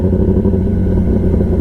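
A Kawasaki ZX-10R superbike fitted with an SC-Project exhaust runs close and loud, a dense, steady engine roar with a rough, crackling edge and no speech.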